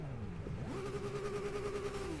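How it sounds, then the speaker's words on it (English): A turbocharged car engine in Gran Turismo 6 revs up, its pitch rising and then holding a steady whine, with a smooth turbo hum throughout. "Sounds like it's a car which is running literally just off turbo"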